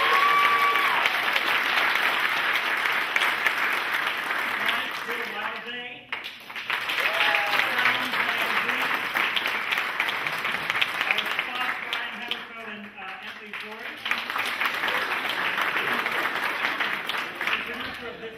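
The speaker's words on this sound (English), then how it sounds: "I just want to mention and show some applause for our stage manager tonight, Alex Perdance." A theatre audience at a musical Q&A applauds loudly and steadily for the stage manager, a dense sustained roar of clapping with a brief dip midway and some voices and cheers mixed in.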